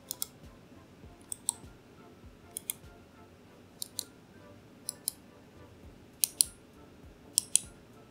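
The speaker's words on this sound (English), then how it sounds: "Now let me show you the clicks over here," Button clicks from a RedGear A-15 budget RGB gaming mouse: crisp, close clicks, often in quick pairs, spaced a second or so apart over a quiet background.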